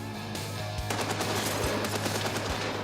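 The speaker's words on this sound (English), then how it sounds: "It spits out 500 rounds a minute." Machine gun rated at 500 rounds a minute firing sustained rapid bursts, a dense loud chatter of shots with sharp thumping reports repeating at a steady pace, without any voices.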